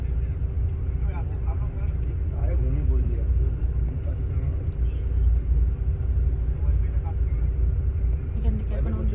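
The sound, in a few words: bus departing from Dalkhola, engine rumble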